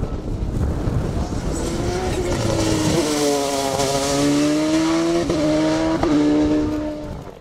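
A Silvercar CS Turbo race car climbs the Mont-Dore hill climb in the French mountain championship, its engine loud and close, revving hard through rising and falling pitches with gear changes over about seven seconds.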